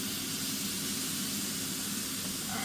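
Diced tomatoes hit a hot pan and sizzle in a steady, close, dense hiss that holds evenly throughout, with no talk.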